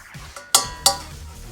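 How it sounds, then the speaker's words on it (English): A spoon scoops butter into a pan and makes two sharp metallic clinks against the cookware, with a few softer scrapes around them, close and quiet with no talk. "get a spoon and scoop some butter in the pan"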